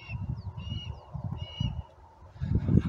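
A hawk perched on a post gives a run of thin, high, repeated calls over a low, steady rumble, followed by a louder burst of noise near the end.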